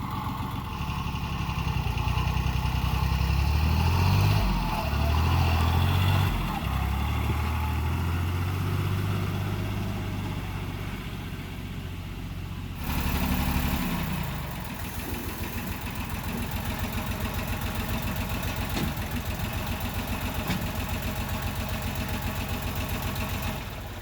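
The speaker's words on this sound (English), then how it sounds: "let's go park the tractor" A heavy diesel tractor engine runs close by, chugging and rumbling steadily, shifting in pitch partway through before settling back into an even idle.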